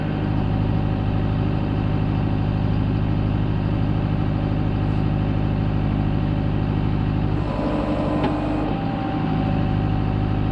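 Steady low engine rumble of a tractor idling outdoors in freezing temperatures runs throughout, with a brief mechanical clatter and shift near the end.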